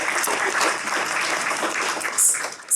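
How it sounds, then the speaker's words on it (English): An audience claps in thanks for absent translators after a literary reading, a steady wash of applause with faint voices beneath it, ending in a few louder close claps. "a clap of thanks for the translators who aren't with us tonight"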